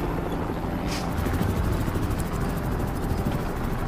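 A steady, dense mechanical roar with a rhythmic thumping beat, like helicopter rotors close by, continuous throughout with no voices.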